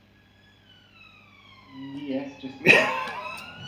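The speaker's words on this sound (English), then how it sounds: "That's the police travelling through Coldstream High Street" Police sirens wail along Coldstream High Street, rising from faint and distant to louder as vehicles approach, with a voice speaking briefly over them.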